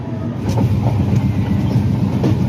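A passenger train runs steadily, heard from inside a crowded sleeper-class coach as a continuous low rumble with faint rhythmic clacks of the wheels over rail joints.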